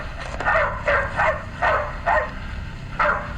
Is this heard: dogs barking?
yes